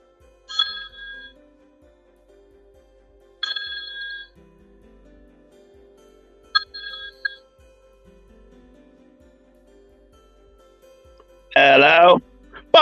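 Phone ringing on a call: a bright electronic ring repeats three times at about three-second intervals, close and clear, over a faint background tone, followed by a brief burst of voice at the end.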